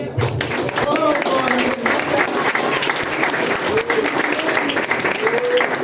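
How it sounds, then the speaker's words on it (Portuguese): A church congregation applauds loudly and steadily throughout, dense clapping filling the space, with scattered voices and a faint tone rising over it during an anniversary evangelical service. "Aplaude o Senhor"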